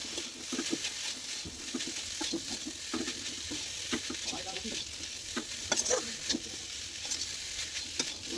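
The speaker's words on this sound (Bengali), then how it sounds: "এবার আমি ভালো করে মিশিয়ে নেব" Cooked pasta with tomatoes is stirred and fried in a pan: a spatula scrapes and taps in irregular strokes over a low, steady sizzle, fairly quiet and close, with no talking.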